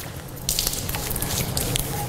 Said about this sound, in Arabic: نفتح الماء قليلا، نملأ اليدين بالماء